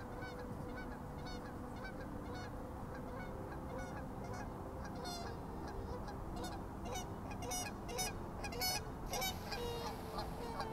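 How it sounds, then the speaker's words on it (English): Waterfowl honking on a river, repeated nasal calls at moderate distance over steady flowing-water noise, growing busier toward the end. "A few ducks just landed on the river here."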